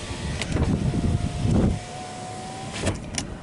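Power window motor in a Nissan Juke driver's door with a faulty switch hums steadily for over a second, preceded by rustling and clicks, with faint thumps afterward in a quiet car interior.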